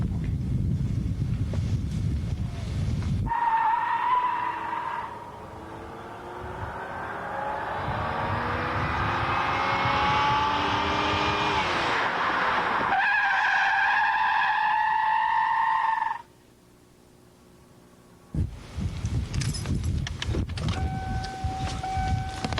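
Tires squeal in a long, wavering, rising howl as a car skids during driving-school training, with engine and wind noise before and after and a brief quiet gap near the end.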